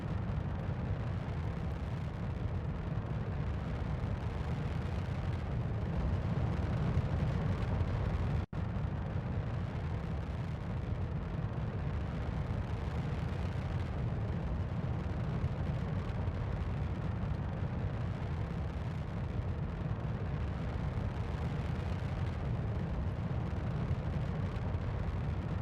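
Rocket engine launch in Kerbal Space Program: a continuous, loud, broadband roar with a steady low rumble that persists unbroken for over twenty seconds, interrupted only by one brief dropout partway through.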